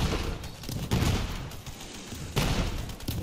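Enemy gunfire in Borderlands 3 comes as rapid bursts of automatic shots, loud and close, with sharp onsets and brief lulls between volleys.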